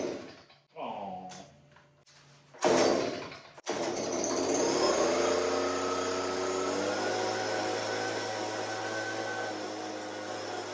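A leaf blower started after its carburetor was cleaned ultrasonically: a couple of pull-start attempts and sputters, then the small two-stroke engine catches and runs loud and steady at close range.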